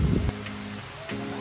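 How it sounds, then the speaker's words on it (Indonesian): Heavy rain at a riverside campsite, a dense steady patter on surfaces with a loud thump near the start, continuing without speech. "hujan turun langsung lebat banget"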